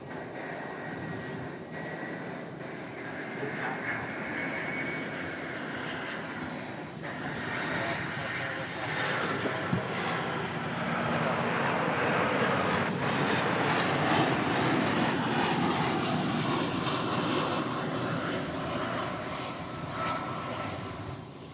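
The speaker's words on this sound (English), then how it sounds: "got to see the landing gear come down on that plane" A Qantas airliner lands at Dallas/Fort Worth airport, its distant jet roar swelling into a broad, steady rumble that peaks midway and then eases, with people talking over it throughout.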